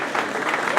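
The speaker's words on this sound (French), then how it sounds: "M. Vacher, on peut l'applaudir." Audience applause at a handball club's season presentation evening, a brief burst of dense, steady clapping from a crowd, with voices mixed in.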